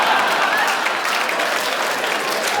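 A stand-up comedy audience applauds loudly and steadily for a couple of seconds, the dense clapping continuous and close throughout with no voices over it.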